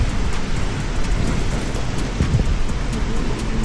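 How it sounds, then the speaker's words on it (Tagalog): Typhoon rain pours steadily in Vigan City, a dense constant roar of heavy rainfall and wind that holds throughout with no letup and no voices. "humahangin, umuulan, pero hindi pa ganun kalakas"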